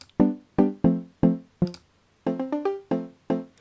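Logic Pro's Wooden Bells mallet patch, heard without EQ, plays a quick run of about a dozen woody, bell-like plucked notes, fuller and rounder in the lows, with a short pause before a faster cluster of notes.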